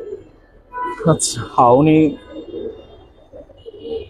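Pigeons of an old local breed cooing softly in a loft, low murmuring coos running under nearby talk.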